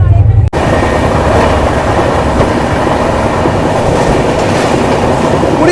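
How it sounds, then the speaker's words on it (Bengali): Shalimar–Puri Jagannath Express passenger train running, a steady loud rumble with rhythmic clickety-clack of wheels over rail joints, continuous throughout after a brief dropout near the start. "18049 শালিমার পুরী জগন্নাথ এক্সপ্রেস"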